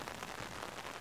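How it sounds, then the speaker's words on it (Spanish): Rain falling in a Peppa Pig cartoon scene at a fish pond, a soft, steady patter of drops on the ground, faint and even throughout with no talk. "La lluvia está desvaneciendo las huellas."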